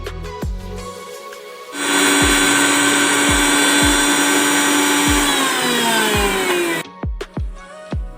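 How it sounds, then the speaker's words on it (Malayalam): A mixer grinder blends coconut, green chilli, cumin, garlic and shallots with a loud, steady motor whine that starts abruptly, drops in pitch as it winds down, then cuts off. Sharp knocks recur before, during and after the run. "നമുക്ക് തേങ്ങ, പച്ചമുളക്, ജീരകം, വെളുത്തുള്ളി, ചെറിയ ഉള്ളി എല്ലാം കൂടി മിക്സിയിലിട്ട് ഒന്ന് അരച്ചെടുക്കാം"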